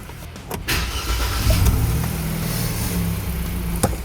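The engine of a Hyundai Kona, abandoned and bought at auction, cranks and then catches, settling into a steady, close idle with a faint click near the end and no voices.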